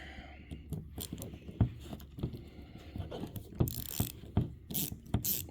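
A ratchet fitted with a 1/4 inch socket and a swivel extension backs out three screws on a C5 Corvette headlight assembly, giving close, crisp clicking bursts in uneven runs with brief pauses between strokes.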